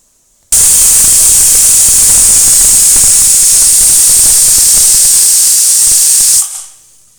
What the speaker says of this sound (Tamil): குக்கர் சத்தம் வந்துடுச்சு.